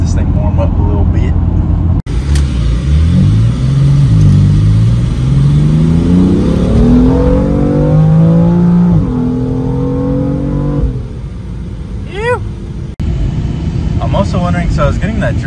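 BMW F80 M3 engine revving repeatedly during warm-up, loud and close, with pitch climbing and falling through several sustained rev sweeps before settling back toward idle.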